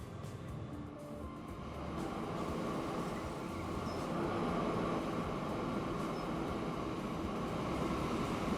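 Old trains roll along in Transport Fever 2, a steady, low rumbling drone of wheels and carriages that swells slightly after the first couple of seconds and continues unbroken, fairly quiet, with no voices.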